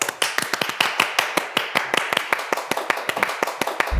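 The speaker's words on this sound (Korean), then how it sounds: "제가 박수를 칠게요" Hand clapping by one person on a Korean talk show, welcoming a guest on stage: a quick, even run of sharp, close claps that keeps going alone, with no talk.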